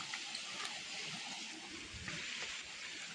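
Water of a small stream rushing and splashing as children cross it on the way to a village temple site, a steady broadband wash holding level throughout, fairly close, with no talk over it.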